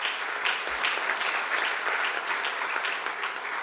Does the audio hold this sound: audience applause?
yes